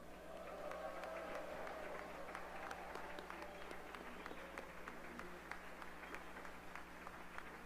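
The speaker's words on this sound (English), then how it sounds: "Will you give them a big round of applause?" Crowd applause for entertainers and volunteers at a festival gathering in Korea, a steady dense patter of many hands clapping throughout, moderately distant and fairly faint.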